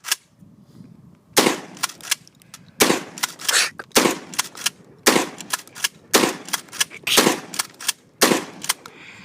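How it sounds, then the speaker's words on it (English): A Kel Tec KSG pump shotgun shooting cheap Walmart birdshot fires in a series of loud, close blasts, each followed by the clack of pump action and handling noise between shots. "when you are firing this, this is cheap Walmart birdshot"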